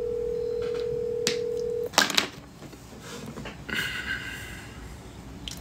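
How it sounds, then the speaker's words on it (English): A telephone call being placed: a steady electronic tone holds for a couple of seconds, then cuts off into clicks, followed by a burst of ringing tones on the line, with no one speaking. "She ain't gonna answer this phone."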